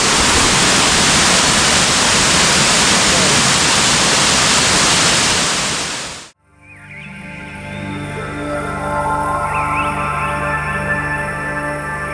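Magsal Falls, a waterfall in Guinoyoran, roars as a loud, steady broadband rush for about six seconds, then cuts to a quieter outdoor scene with birds calling over a faint background.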